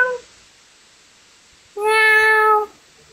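A single drawn-out cat meow, clear and close, rises after a short silence and fades after about a second, with no talk around it.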